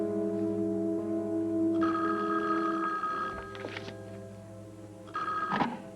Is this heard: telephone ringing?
yes